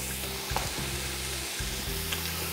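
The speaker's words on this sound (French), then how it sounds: "On va mettre également les lardons fumés. On laisse suer ça" Smoked bacon lardons sizzling in a pan, a dense, continuous crackling hiss with a low steady hum underneath and a couple of brief dips, close and alone.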